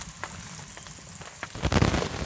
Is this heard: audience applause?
no